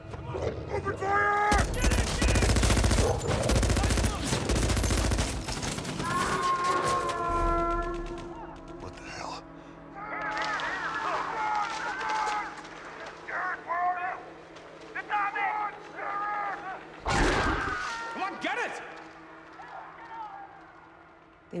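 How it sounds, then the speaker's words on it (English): Gunfire in a movie scene as soldiers open fire during a giant wolf attack, a dense roaring burst of shots at the start, then echoing rumble with shouted voices and a sharp blast later. "Set a perimeter! Open fire!"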